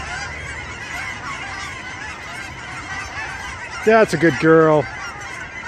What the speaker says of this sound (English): You dislodged all them geese. They're not happy with you at all.